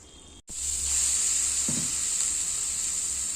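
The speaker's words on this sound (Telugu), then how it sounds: "తాలింపు పెడుతున్నానండి." Talimpu tempering for mint chutney sizzles in hot oil, a steady close hiss starting after a brief silence and holding to the end, with a faint clink partway through.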